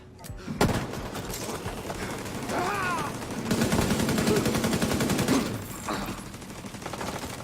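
A deployed turret firing in the shooter game The Division 2, sustained rapid automatic bursts swelling and easing over several seconds amid other combat noise.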